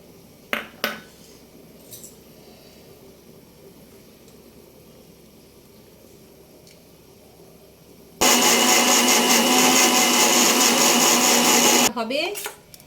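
An electric blender grinds shrimp and shrimp shells with a small onion and garlic, a loud, close, steady whirring roar lasting a few seconds that starts abruptly after quiet kitchen clinks and stops sharply.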